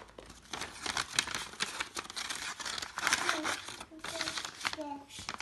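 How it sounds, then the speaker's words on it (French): A paper letter being folded and slipped into an envelope, with repeated crinkling, rustling and sliding paper sounds up close while a voice speaks over them. "Ensuite vous allez plier votre lettre, la mettre dans l'enveloppe."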